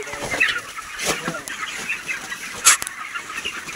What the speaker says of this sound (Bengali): মুরগিগুলোকে কোনো মতে এক জায়গায় করতে পারছিলাম না। যত ওইদিকে নিয়ে যাচ্ছি তত উল্টো পালাচ্ছে এদিকে।